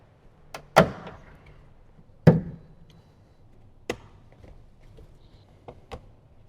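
Plastic door panel retainers are pressed back into a Toyota Tundra door panel using a panel removal tool. Several sharp, close clicks and snaps come at irregular intervals, the first two loudest, over a quiet background.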